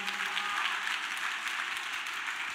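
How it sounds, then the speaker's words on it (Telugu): A congregation claps loudly at a Sunday church service in Gorantla, with dense, sustained applause that holds steady throughout. "చప్పట్లు కొట్టండి గట్టిగా"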